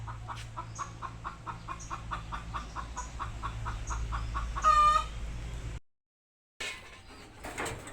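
A hen clucks in a steady, rhythmic run of close, repeated calls before laying an egg, followed by a brief silence and then a short burst of further fowl noise.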